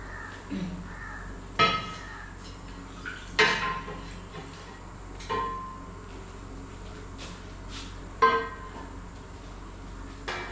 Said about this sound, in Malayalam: ഈ ദോശക്കല്ലെടുത്ത് വയ്ക്കും